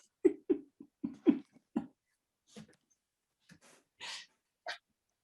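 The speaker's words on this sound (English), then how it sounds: "The dog." During an October 2021 cemetery committee meeting, a nearby dog makes a string of short, sharp huffs and pants, then scattered snorts and breathy puffs separated by silence.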